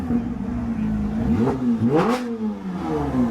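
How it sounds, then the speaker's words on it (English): A sports car engine revs hard at a European motor festival, climbing and falling in pitch through several sharp throttle blips, loud and close, with faint crowd noise around it. "this is going to be very much of a revving event"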